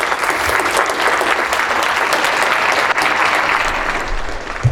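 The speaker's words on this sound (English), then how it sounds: "So can we give him a round of applause?" An audience at a multiple sclerosis roundtable event breaks into loud, sustained applause, continuous clapping at an even level that carries on alone for several seconds.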